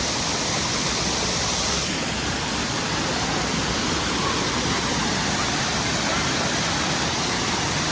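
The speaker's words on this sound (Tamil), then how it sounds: "இங்கே அவ்வளோ ஃபோர்ஸாக வருதுங்க தண்ணி." Water rushes forcefully over Kodiveri dam, a loud, dense, unbroken roar of falling water that fills the scene from start to finish with no pauses.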